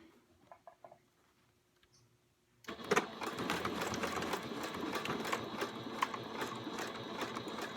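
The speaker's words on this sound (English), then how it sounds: "I got a serger for Christmas from my mom." A serger sewing machine stitches fabric for a mermaid tail. It starts after a quiet pause and then runs in a steady, fast, rattling whir. The sound is close and continuous, with no talk over it.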